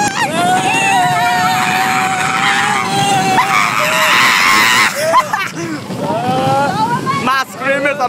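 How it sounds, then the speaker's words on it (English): A rider screams in a long, sustained wail on a runaway mine train roller coaster, over steady rushing wind and track roar, followed by further shrieks and shouting from others aboard. "My scream is amazing."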